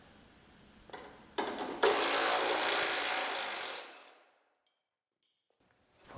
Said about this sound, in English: I can unbolt the brackets in the back